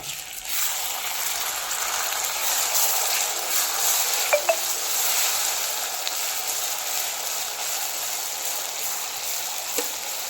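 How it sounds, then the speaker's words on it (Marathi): Tomato pieces frying in oil with coconut in a pan for a Marathi pavta amti, giving a steady, soft sizzle with a few faint clicks of a spoon against the pan. "आता ही आपल्याला छान असा सॉफ्ट होईपर्यंत भाजून घ्यायचं आहे तेलामध्ये"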